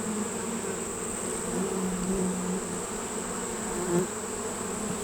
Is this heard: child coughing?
no